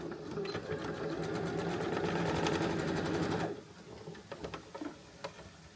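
A sewing machine runs a straight stitch through a tea towel being made into toddler pants, a close steady rapid whir for several seconds before it stops and a few light clicks and taps follow.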